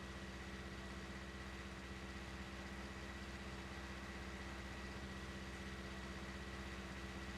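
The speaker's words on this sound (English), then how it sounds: "it's not a big engine in this thing. I think this one's the 190 horsepower." A 190-horsepower tractor engine laboring uphill in the Farming Simulator 19 video game, a steady low droning hum that holds constant and faint throughout with no talking.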